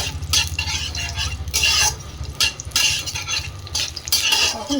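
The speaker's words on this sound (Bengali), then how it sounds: "জিরে লঙ্কা তেজপাতাটা খুব ভালোভাবে ভেজে নিচ্ছি" Whole cumin seeds, dried red chillies and bay leaves fry in hot oil in a pan, a steady close sizzle with continuous scraping stirs and utensil clinks throughout, no voices.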